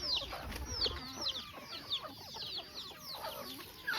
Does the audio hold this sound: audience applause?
no